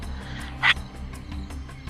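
A person imitates a lion's roar with a forceful exhale during playful breathwork, one short rough burst standing out briefly over a low steady background hum.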